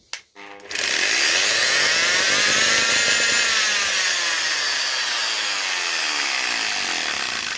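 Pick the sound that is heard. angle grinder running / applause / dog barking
angle grinder running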